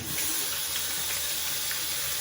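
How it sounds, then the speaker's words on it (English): Cold or lukewarm water scooped by hand and poured over a freshly washed tattoo, a steady close splashing rush that holds constant throughout. "just use your hand and dump cold water, or dump warm water, or cold."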